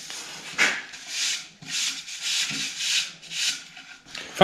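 Wood being hand-sanded with coarse sandpaper to remove water-ring stains, heard as about eight steady, rhythmic back-and-forth rasping strokes, close and fairly loud, with no voices.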